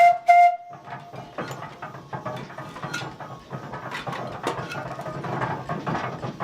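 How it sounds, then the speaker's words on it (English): A 1908 Goldbeer steam logging machine, a wood-fired steam donkey, runs with a steady clatter of gears and ratcheting mechanism after a brief high whistle-like tone at the start, continuous and moderately loud at close range. "The machine we have behind us is a 1908 Goldbeer steam logging machine"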